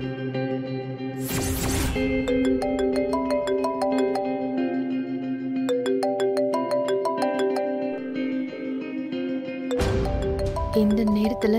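A mobile phone ringtone plays for an incoming call, a looping electronic melody of bright repeating notes, steady and fairly loud with some reverberation, interrupted briefly by whooshing noise bursts.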